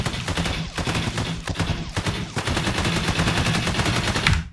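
An AI enemy in an Unreal Engine 5 third-person shooter fires its gun without pause, a loud, dense, rapid burst of gunshots that runs on steadily to the end with no talking.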